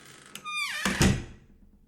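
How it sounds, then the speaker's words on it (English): A bathroom door creaks briefly on its hinge, then shuts with two solid thuds close by, leaving a faint fading echo. "She then slipped into the bathroom, closing the door."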